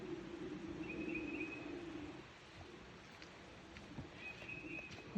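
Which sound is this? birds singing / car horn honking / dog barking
birds singing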